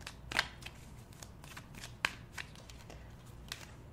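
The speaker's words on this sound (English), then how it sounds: "Let's pull another card." Tarot cards being shuffled and pulled by hand, soft riffling and sliding with a few sharper card snaps, close and quiet with no talk.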